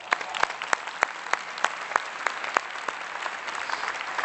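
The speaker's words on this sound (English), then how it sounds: "all of our colleagues in Sweden deserve a huge round of applause" Conference audience applause, moderately quiet and steady, with a few sharper individual claps standing out in a loose, regular rhythm against the softer crowd clapping.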